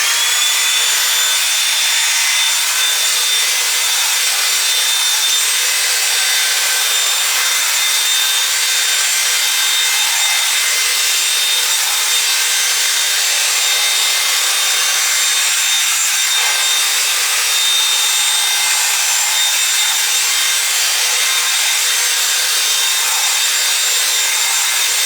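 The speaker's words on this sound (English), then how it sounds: "And now we blow dry." Hair dryer blowing on hair during a lace-behind-hairline crochet styling, a constant loud whooshing airflow with a steady whine, unbroken for the whole stretch with no voices.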